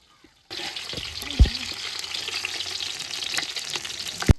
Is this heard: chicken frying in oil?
yes